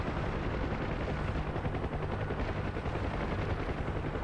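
Rapid continuous machine-gun fire from a UH-1 Huey helicopter in the DCS combat simulator, a loud unbroken rattle of shots over a low rotor drone throughout.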